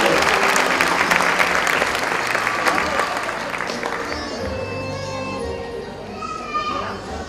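Audience applause for graduating students at a 2018 school graduation ceremony, a loud sustained crowd of clapping that slowly thins toward the end, with children's voices and chatter mixed in.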